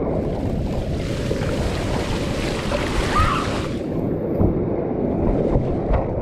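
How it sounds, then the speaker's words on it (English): Ocean surf breaking at RAT Beach, a steady, loud wash of churning waves with wind buffeting the microphone throughout and no pause in the roar. "I'm getting double waves here."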